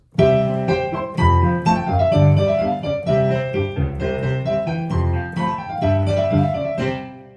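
A sustained instrumental phrase with rich, layered harmony moves through several chords and settles into a final cadence, fading out at the end.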